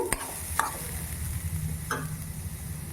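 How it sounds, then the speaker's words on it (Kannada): Beetroot frying in its own oil in a pan while being stirred, with a steady soft sizzle and a few sharp scraping strokes of the spoon, close up, no talk. "ಎಣ್ಣೆದಲ್ಲೇ ಚೆನ್ನಾಗಿ ಹುರಿಬೇಕು"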